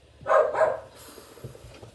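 Two sharp dog barks in quick succession, fairly close, followed by quieter background noise.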